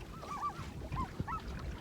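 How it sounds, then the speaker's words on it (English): Birds call around a fishing boat in a series of short honking and squawking cries at moderate distance, over a low rumble of wind and boat noise. "You can hear all these birds."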